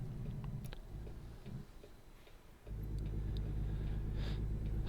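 Air brakes on a truck in American Truck Simulator, heard amid a low engine rumble: a steady idle, a brief quieter dip, then a rise back to a full drone, with faint hissy ticks scattered across it.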